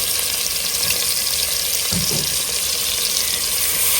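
Onions and ginger garlic paste frying in a pan for a layered dum biryani, giving a loud, continuous sizzle up close with a brief stirring clunk midway.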